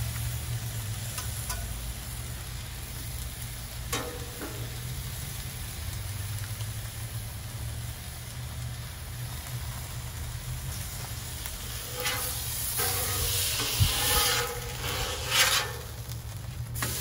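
Cheap steak searing on a Blackstone griddle, a steady broad sizzle that swells louder with some scraping and handling near the end, close and without talk.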